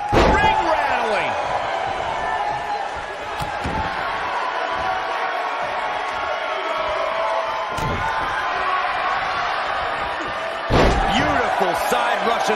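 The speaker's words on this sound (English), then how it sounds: "Ring rattling." In the WWE 2K19 video game, heavy slams rattle the wrestling ring with loud thuds over constant crowd noise, and a commentator's voice runs throughout.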